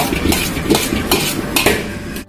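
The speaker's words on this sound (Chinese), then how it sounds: "下入切好的葱，翻炒10秒" Sliced beef and chopped scallions are stir-fried in a wok, with a spatula scraping and clacking in quick rhythmic strokes over a bright continuous sizzle, close and loud.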